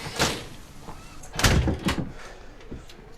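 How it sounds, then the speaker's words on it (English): A door shut and latched in an episode of The Last of Us, heard as a few heavy thuds and knocks with a sharp clack in the middle, close and fairly loud over room noise. "You locked the door for once."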